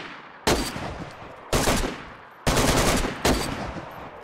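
Four loud, sharp gunshots from a DayZ firefight near a cabin, evenly spaced about a second apart, each with a short decaying tail and no voices.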